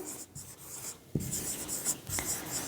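Pen scratching across paper during a Hindi-language chemistry lesson on bases, a steady faint scritching with a few stroke bursts, close and quiet, with no talking over it.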